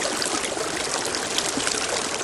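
Water is poured steadily over a toy bullet train to rinse it, a continuous close trickle and splash that fills the whole moment without any talk.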